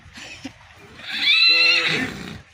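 A horse whinnies once, a loud, shrill, wavering neigh close by, with faint background noise before it.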